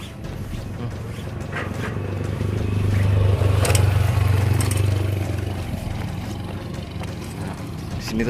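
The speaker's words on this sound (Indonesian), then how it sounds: "Sini tuh naik motor semua kalau yang warga sini mau ke kebun." Motorcycles ride downhill on a mountain village road in a Nepal-like hillside setting, a continuous engine drone that swells in the middle and fades slightly, heard nearby with outdoor background noise.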